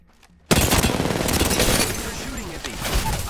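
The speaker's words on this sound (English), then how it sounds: "You're shooting at me." Heavy sustained gunfire in the Apex Legends video game, a dense loud burst of rapid automatic shots that starts abruptly and continues for about three seconds alongside game effects.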